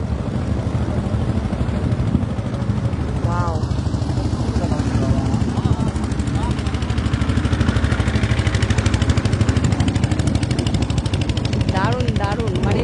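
Several motor boats run on a wetland lake during a pleasure trip, their engines droning steadily and fairly loud throughout, with people talking and exclaiming over the noise.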